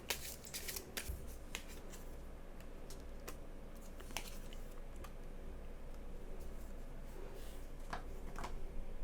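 Tarot cards being shuffled and drawn: soft, irregular card flicks and snaps close by over a low steady background hum, with a few sharper slaps scattered throughout.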